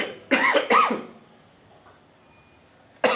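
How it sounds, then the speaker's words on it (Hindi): A man gives a couple of sharp, close coughs, one right after the other, followed by quiet and then the start of another cough. "थोड़ी सी खांसी भी है,"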